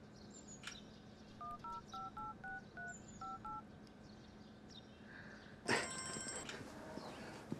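Telephone keypad tones beep in a quick run of about a dozen short, even notes at low volume, followed by a brief louder rustle and faint background noise.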